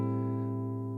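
A guitar chord with the pinky lifted off rings out sustained and clear in an R&B style, close and alone, with no talking.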